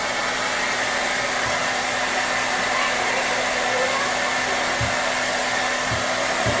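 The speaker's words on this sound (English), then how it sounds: "the belly is always the easiest to dry off." A hair dryer blows steadily and loudly on a Rottweiler's wet coat after a bath, a constant close whooshing roar with a few soft thumps underneath and no talking.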